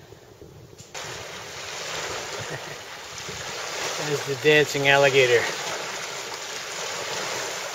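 Rushing rapids on the Pearl River make a constant broad wash of water around a kayak, heard up close while a person calls out over the noise.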